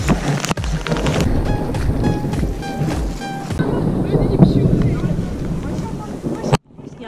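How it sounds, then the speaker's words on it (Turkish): Rain falling outdoors in a village flower field, a dense continuous hiss with wind buffeting the microphone and occasional loud thuds, while people talk nearby. "Yağmur sonunda yağdı."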